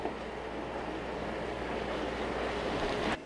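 Broccoli sizzles in a hot pan while being stirred, giving a steady, dense hiss of frying close by that carries evenly throughout with no talking.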